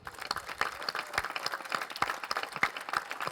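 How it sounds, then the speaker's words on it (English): A crowd at a community center groundbreaking ceremony applauds steadily, dense clapping from many people sustained throughout, moderately close and without talk over it. "we'd like to have a round of applause for Olson Lee"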